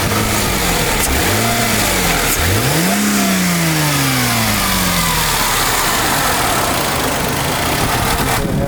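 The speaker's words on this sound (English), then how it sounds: "Just gonna give it a little bit of gas." A car engine gets a light dab of gas while parked, rising in pitch as it revs, then falling back toward idle, with a second rev following. It sounds close and loud, with no voices.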